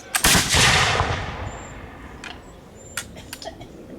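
Muskets and rifles fired at a militia encampment demonstration: a loud nearby volley with long rolling echo, followed by a few scattered later shots and faint clicks.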